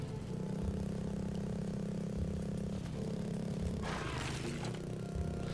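Video game motorcycle engine idling steadily at a low, constant drone, with a brief rise in revs near the end; no one talks.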